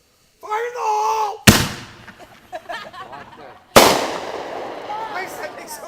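Consumer fireworks set off outdoors on the May 2-4 weekend: a rising whistle, then two loud, sharp bangs a couple of seconds apart, each trailing into crackling decay, with voices talking nearby.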